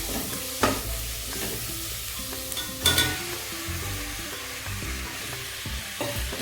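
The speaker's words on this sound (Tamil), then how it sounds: "தக்காளி நல்லா வதங்கிட்டேன்" Tomato and onion sauté in a pan for brinjal thokku. The sizzle is dense and continuous, with spatula scrapes and a couple of louder clattering stirs near the start and middle.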